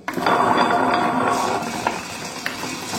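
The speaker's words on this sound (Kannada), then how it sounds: "ಇಲ್ಲಿ ಒಂದು ಗ್ರೈಂಡರನ್ನು ಆನ್ ಮಾಡಿಕೊಂಡು" A kitchen grinder switched on to grind wheat for dosa batter starts abruptly with a loud mechanical whir and rattle, then settles into a steadier, slightly softer grinding hum.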